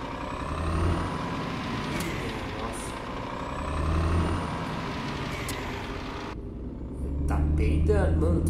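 A Scania truck maneuvers in a driving simulation game, its diesel engine rumbling steadily with swelling revs and sharp air-brake hisses and clicks near the end, while someone talks over it.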